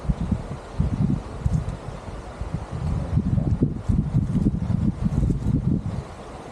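Wind gusts rustle leaves in a valley on a hiking trail near a waterfall, a steady low rushing with fluctuating surges, alone without talk.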